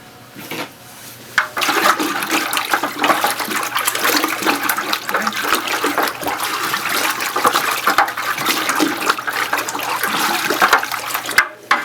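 Sanitizer is stirred into about two gallons of water while cleaning a commercial frozen yogurt machine, producing a continuous rushing, sloshing wash of liquid that starts softer and then stays loud and steady.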